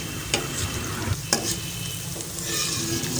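Onions frying in ghee for Lahori chana give off a loud, continuous sizzle close by, with a few quick spoon scrapes and taps stirring through the pan.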